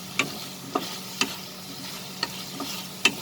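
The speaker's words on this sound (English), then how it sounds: "Now we will add these potatoes. Saute this" Potatoes sautéed with spices in a pan, under a soft constant sizzle broken by sharp, evenly spaced spatula taps and scrapes.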